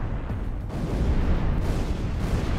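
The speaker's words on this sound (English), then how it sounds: "sound of explosions seemed to go on forever." Explosions and artillery fire from a war documentary about America's first strike in the Pacific, with the carrier Big E taking a direct hit: a dense, continuous low rumble of booms that rolls on loudly without pause.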